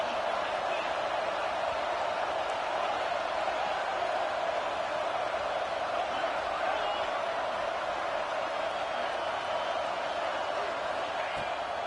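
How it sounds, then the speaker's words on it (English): In a college football video game, a stadium crowd roars as a steady, dense wall of noise that holds level throughout, with no distinct cheers breaking out. "Decibels rising as the crowd gets behind this defense on third down."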